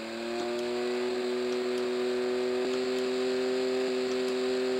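A Jaguar car's engine in the 1000 Miglia arcade racing game, a steady synthesized whine holding a constant pitch with faint periodic clicks, no talk.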